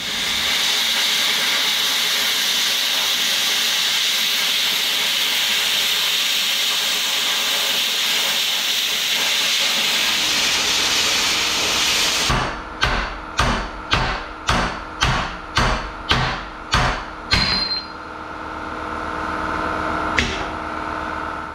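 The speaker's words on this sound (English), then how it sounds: "So I need to cut a square somewhere inside this square" A steel skid plate being cut for a transmission mount on an FJ Cruiser, a long harsh grinding hiss that gives way to a quick series of about ten sharp rhythmic cutting bursts, then a final hit, close and loud.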